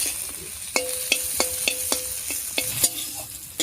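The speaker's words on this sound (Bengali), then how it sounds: "পেঁয়াজ, রসুন, লঙ্কা, কালো জিরা সবকিছু ভাজা হয়ে গেছে" A spoon scrapes and knocks in a pan while onion, garlic, chili and black cumin fry, about a dozen crisp regular clinks over a low steady sizzle.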